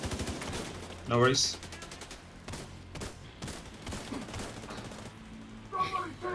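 Rapid bursts of gunfire from The Division 2 during a Dark Hours raid, sharp repeated shots scattered across the clip with a louder volley near the start, while players talk over team chat.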